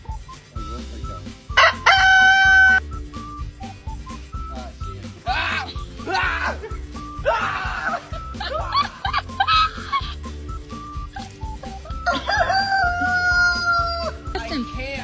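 A rooster crows several times at close range in bursts, with people chatting and laughing nearby between and under the calls.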